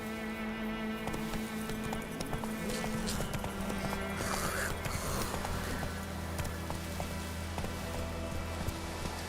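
Horse hooves clip-clopping steadily in The Witcher 3 video game, blended with rain-like ambience and layered game background noise.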